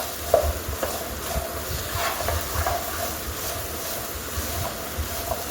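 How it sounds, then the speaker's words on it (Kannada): Okra (lady finger) stirred and fried in a pan gives a soft, continuous sizzle with scattered scraping clinks from the spoon, close and moderately quiet, with no talking. "ಮಿಕ್ಸ್ ಮಾಡಿಕೊಂಡು ಹುರ್ಕೊತಾ ಇದ್ದೀನಿ"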